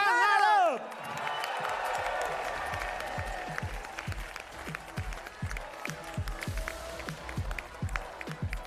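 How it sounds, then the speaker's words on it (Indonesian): An audience applauds and cheers to welcome Kaesang Pangarep as new PSI party chairman, with sustained crowd clapping and whoops under a steady rhythmic music beat and a brief voice at the start. "Kita sambut dengan tepuk tangan dong"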